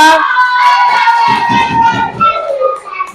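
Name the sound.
class applauding and cheering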